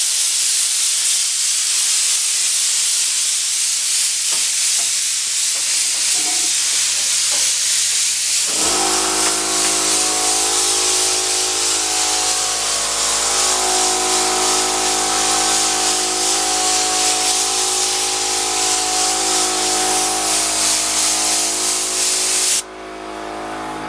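A spray paint can of gold paint hisses in a long, steady, loud burst close by while painting a car hood, with a short break near the end before the spray resumes.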